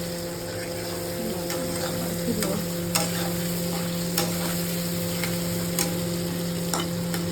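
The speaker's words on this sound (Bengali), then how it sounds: "একটু ভাজা ভাজা লাল লাল করে ভেজে নেবো।" Onion and green chilli fry in a pan with salt and turmeric, giving a steady sizzle with a low background hum, and a utensil scrapes at regular intervals, about once a second.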